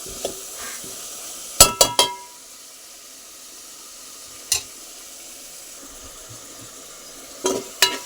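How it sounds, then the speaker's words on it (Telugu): Onions soften in a pan for a prawn masala gravy curry, giving a quiet, steady sizzle punctuated by a few sharp clinks of a spoon against the pan in small clusters. "ఉల్లిపాయలు బాగా మగ్గాలి మెత్తగా."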